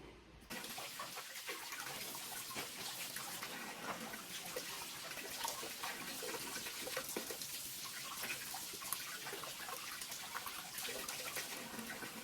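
Crab legs for a seafood boil being rinsed with lemon juice and water, a steady running, splashing wash that continues evenly throughout at close range with no talking.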